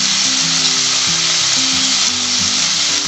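Vrat recipe ingredients with lemon juice and chopped coriander frying and being mixed in a pan, a loud, constant close sizzle with a low scraping hum underneath, no voices.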